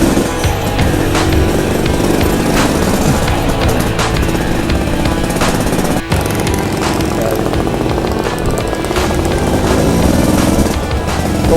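A 1979 Suzuki A100 two-stroke motorcycle engine while riding in first gear, a loud continuous buzzing drone close to the mic with wind rumble, steady throughout with one brief dip.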